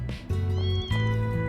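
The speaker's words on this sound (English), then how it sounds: "Oh, it's up here with the kitties?" Cats meow in the video game Trails through Daybreak 2: two drawn-out, clear meows, near and loud, one after the other with a short gap and no talk over them.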